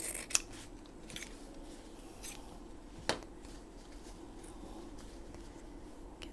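Scissors cut fabric from a snippet roll while a journal cover is being made, giving a few faint, close snips and soft rustles with no talking.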